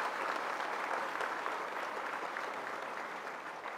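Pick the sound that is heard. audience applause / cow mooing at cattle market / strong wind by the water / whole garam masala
audience applause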